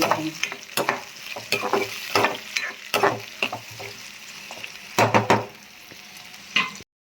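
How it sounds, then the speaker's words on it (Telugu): Chopped onions and green chillies hit a hot pan for a cucumber curry, frying with a steady sizzle broken by repeated scraping stirs and clinks of a spatula, close and fairly loud, with no talking. "ఇప్పుడు మనం ఇందాక కట్ చేసుకుని పెట్టుకున్న ఆనియన్స్ పచ్చిమిర్చి వేసుకుందాం"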